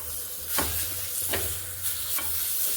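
Chicken liver coated in chicken masala fries in a pan while being stirred, a soft steady sizzle broken by a few scraping strokes of the spoon, close and moderately quiet with no speech.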